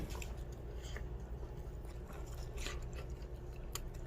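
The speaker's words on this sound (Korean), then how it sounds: "바삭바삭한 구운 치킨 맛" Someone biting into and chewing crispy roasted chicken up close, a run of wet crunches and squishy chews repeating steadily over several seconds.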